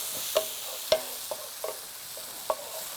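Mushrooms and green peppers cooking in a skillet give a soft, steady sizzle, broken by several sharp clicks and scrapes as a utensil stirs them. Up close, with no talking.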